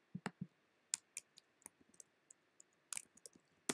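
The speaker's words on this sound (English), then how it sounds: "So I'm going to click on that." Quiet, dry computer mouse clicks, single and in quick pairs, scattered irregularly across a silent background while software is navigated.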